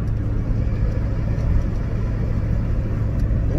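Car riding along a road through the Bakken oilfield near Williston, North Dakota, heard from inside as a steady, loud low rumble of engine and road noise throughout, with no talking.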